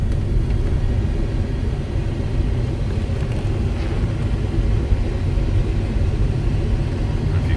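A 1996 GMC Yukon pulls away with a steady, loud low engine rumble and road noise that hold constant throughout, no voices over it.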